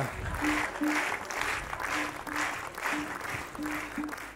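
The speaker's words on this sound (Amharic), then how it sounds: "ሞቅ ባለ ጭብጨባ" Warm applause fills a hall as an audience claps for honorees called to the stage, a sustained, even patter heard alongside a faint repeating tone and some murmured talk.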